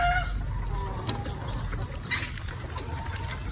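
Chickens in a backyard flock cluck and call softly at a distance, their short calls scattered over a steady low outdoor rumble, with no voices.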